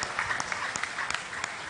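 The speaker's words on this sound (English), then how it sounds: "Please, round of applause for Ptad." Applause from an audience at a stakeholders' forum fills the room, steady and dense, with a few sharper claps standing out across the burst.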